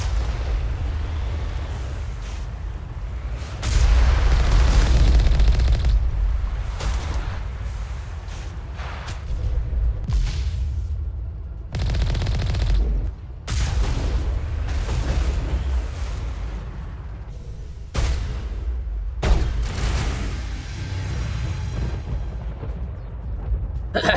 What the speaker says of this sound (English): We must find a way to disable their artillery.